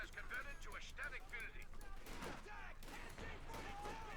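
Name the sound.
gunfire in Company of Heroes 2 (video game)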